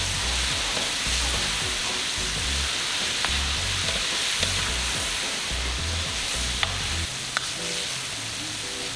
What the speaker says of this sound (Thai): ดี๋ยวเราจะทอดไก่เป็นเวลาสองรอบนะคะ